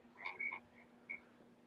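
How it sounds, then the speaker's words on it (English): Outdoors, a small creature gives a few short chirping calls, one quick pair then a lone chirp, faint against a quiet background hum; the tone is closer to a frog's croak than a cricket's chirp. "You heard that, the cricket, right?"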